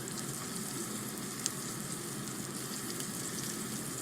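Halved potatoes sear cut side down in a hot pan of oil and butter, making a steady, even close-up hiss with one small click.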